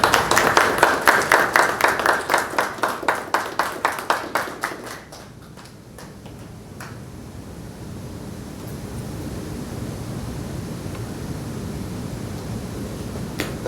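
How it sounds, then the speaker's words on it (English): An award ceremony for firefighters and paramedics at a fire museum hall ends in a round of brisk, loud audience applause that fades after about five seconds into steady room noise. "give both of these incredible folks a round of applause"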